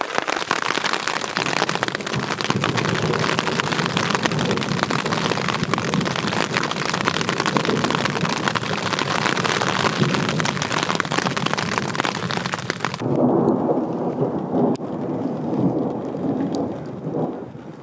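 Heavy rain pounds on a small backpacking tent in the Emigrant Wilderness of the Sierra Nevada, with thunder rumbling through a dense, continuous roar that drops abruptly to softer patter near the end.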